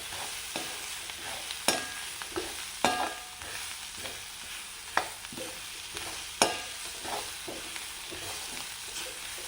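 Paneer chilli frying in a pan with soy sauce and tomato sauce, a continuous sizzle broken by sharp, irregular clacks and scrapes of a spatula stirring, close and loud, with no voices.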